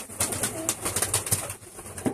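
Pigeons coo and flutter inside a pigeon loft, several soft, repeated calls and short rustles overlapping at close range.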